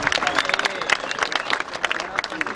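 Lively crowd applause at a Punjabi community gathering, dense overlapping claps running steadily throughout, with voices audible mixed into the clapping.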